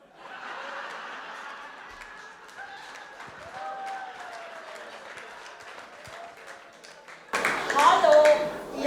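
Applause from a cabaret audience at the Kulturhuus Häbse in Basel, moderate clapping mixed with chuckles and scattered voices, swelling louder near the end.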